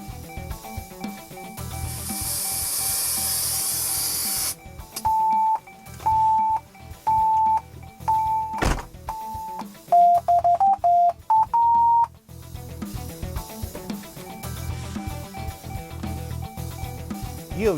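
An in-car audio system runs its automatic tuning setup: a hiss of pink noise, then a run of evenly spaced electronic beeps ending in a quick rising sequence of tones, and the noise returns afterward.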